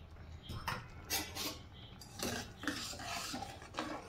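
Red chilli powder, sugar and cumin powder get stirred into a mixture in a bowl for soft dahi vada, with a series of close scraping, rasping strokes in an uneven rhythm, fairly quiet and without talk.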